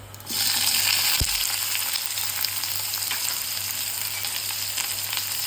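Chopped onion hits hot oil with cumin and sets off a loud sudden sizzle that holds as a steady, close crackling hiss, with one soft knock early on and no talking.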